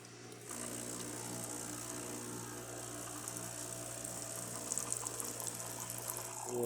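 Hot water pours steadily from the spout of a Breville Barista espresso machine during servicing, a continuous close hiss and gush with a low pump hum underneath and no talking.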